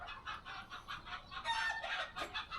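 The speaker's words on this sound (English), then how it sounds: "Chickens are fighting." Chickens squabble in a quick burst of agitated clucks and squawks, one bird letting out a sharp crow-like cry, moderately distant and fairly faint with no talking.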